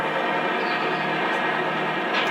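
A locomotive in a train simulator video game starts up with a loud, steady engine drone and a mechanical hum that carries unbroken through the whole stretch.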